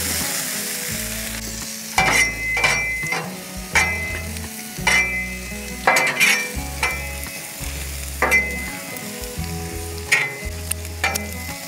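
Potatoes frying on a new Blackstone griddle, a steady close sizzle broken by repeated loud scraping and stirring strokes of a spatula across the flat metal top.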